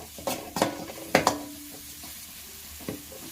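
Asafoetida frying in oil for lemon rice, a soft sizzle broken by a few sharp scrapes and clinks of a spoon stirring against the pan.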